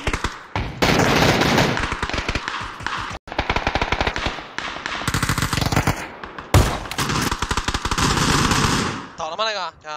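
Rapid automatic gunfire in a shooter video game, dense bursts of loud shots filling most of the stretch, with excited shouting voices over the top.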